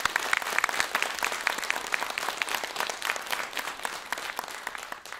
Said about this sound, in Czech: Tak mi ukažte, jak umíte pořádně zatleskat.